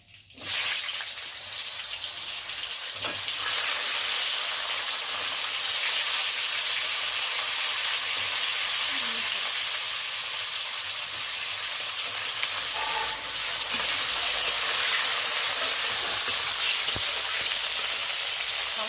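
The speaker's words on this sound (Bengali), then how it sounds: "এবার আমরা আলুটা ভেজে নেবো" Potatoes frying in hot oil give a loud, continuous hiss and crackle that starts abruptly and holds steady close by, with a few faint clinks now and then.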